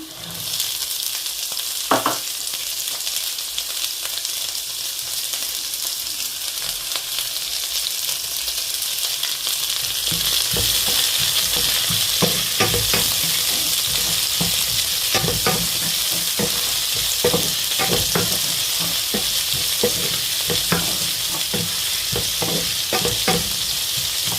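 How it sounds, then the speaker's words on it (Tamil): Onions frying in ghee, a steady bright sizzle that swells louder partway through, with repeated light scrapes and taps of a spatula, close up and without voices. "நெய்யை வீட்டில் விட்டுட்டு இப்போ வெங்காயம் போடுவோம்"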